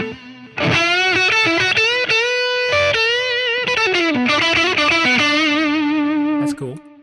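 Electric guitar played through an STL AmpHub amp with delay and reverb, sustained distorted chords and single notes ringing loudly with echoing tails, fading out at the end.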